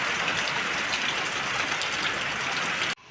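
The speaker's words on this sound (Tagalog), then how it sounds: "Nakakatakot po pag yung sabay po ang lakas ng ulan at ng hangin." Heavy rain pours down in a steady, dense roar, loud and close, then cuts off abruptly near the end.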